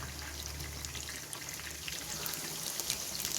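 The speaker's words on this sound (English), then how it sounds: "so we'll fry till crispy brown" Chicken 65 pieces frying in a shallow amount of hot oil, a steady close sizzle and crackle that holds throughout with no pauses.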